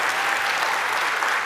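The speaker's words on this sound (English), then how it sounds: "You can clap if you want." Convention panel audience on The Office clapping in a dense, steady wash of applause throughout, loud and close with no talk over it.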